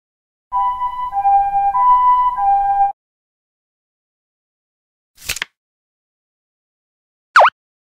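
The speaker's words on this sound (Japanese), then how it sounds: "ambulance" A two-tone siren wails loudly for a few seconds, alternating between high and low pitches, then stops; two sharp clicks follow after a pause.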